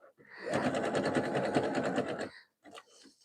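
A sewing machine stitches a folded seam on a jelly roll rug, a steady rapid mechanical chatter for about two seconds, close and even, then stopping with a few faint clicks after.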